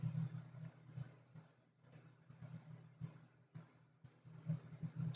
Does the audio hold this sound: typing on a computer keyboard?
yes